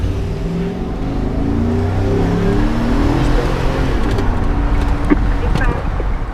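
A police car driving off and accelerating, a loud close engine drone rising steadily in pitch, with voices mixed in over it.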